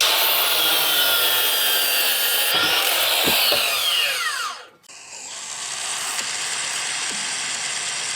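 A power saw bites loudly into a wooden post for a deck support, whining at high pitch for several seconds, briefly cutting out, then running on at full volume, close by with no talk.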